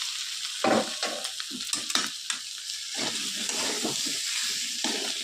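Vegetables, including potatoes, hit hot masala and peas in a pan with a loud burst of sizzling, then steady frying hiss under repeated scraping stirs of a spoon against the pan.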